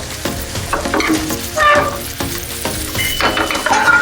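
Pork chops sear in a hot pan with garlic butter sauce, crackling loudly and continuously. Repeated scraping and stirring strokes come through close up.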